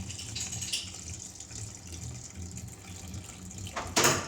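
Water poured onto a sourdough starter, a steady soft trickle running throughout with a brief louder splash near the end.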